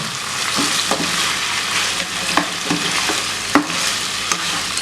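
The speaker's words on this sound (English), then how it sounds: "And then I'm going to go in with my onions and give it some time to cook and to also soften." Onions fry in a tablespoon of oil in a pan, a continuous close sizzle with scattered clicks and scrapes of stirring throughout.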